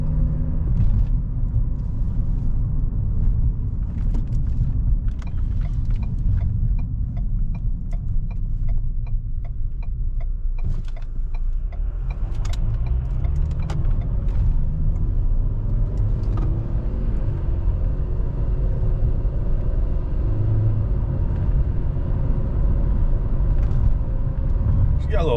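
Small turbocharged vehicle driving down the road just after a repair, giving a steady low engine rumble and road hum from inside the cab throughout, with people talking over it.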